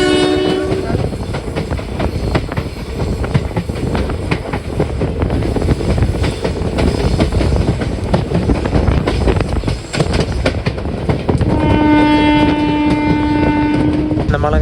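Train climbing toward Punalur on the Kollam–Aryankavu line, a loud continuous rumble and rattle of the carriages with clacking wheels, and a sustained horn blast at the start and again near the end.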